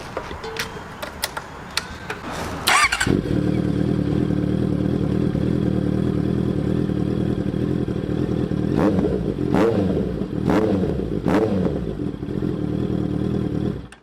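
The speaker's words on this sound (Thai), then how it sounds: "นี่คือเสียงท่อเอนสเปกนะครับสำหรับใส่ 650R" A Honda CBR650R motorcycle with an aftermarket exhaust starts up loud and holds a steady, throaty idle, with a few sharp throttle blips near the end.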